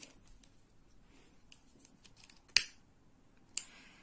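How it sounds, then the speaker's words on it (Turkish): Scissors snip through nylon rope in two sharp, isolated cuts about a second apart, close and crisp against a quiet background. "Daha sonra kesiyorum ve yapıştırıyorum"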